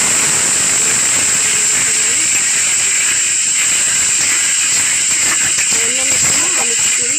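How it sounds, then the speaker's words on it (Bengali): Spice masala sizzles in a hot pan while frying, a steady loud hiss under a person talking throughout. "তো মশলাটা এখন কষতে দিলাম"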